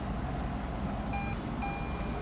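A Toyota Prius push-button start gives two short, high electronic beeps, the second one longer, over a steady hum inside the car.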